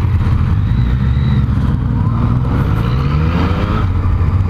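A Yamaha MT-09 Race Blue motorcycle accelerates on a test ride, its engine note rising and falling in pitch under heavy wind rush, loud and close throughout.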